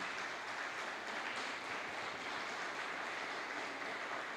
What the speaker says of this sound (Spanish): Démosle un aplauso a los jóvenes de esta iglesia